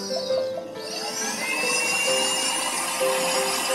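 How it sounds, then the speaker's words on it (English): An abrasive wheel grinds filigree on a white gold ring, a high, thin whine that holds steady with slight shifts in pitch as it bites the metal, close up and without talking. "I grind away at the filigree very slowly until I have it level with the outside of the white gold ring"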